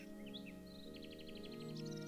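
Synthesized bird chirps and rising tweets from the adventure game Gobliiins play faintly over a sustained musical drone, quick repeated trills near the end, no talk.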